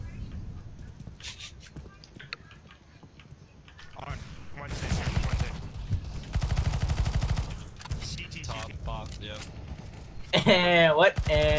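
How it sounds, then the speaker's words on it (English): Video game gunfire in a tactical shooter match: rapid bursts and single shots crack loudly among clattering in-game noises, growing more intense toward the end. "I ran out of bullets because I missed all of my shots"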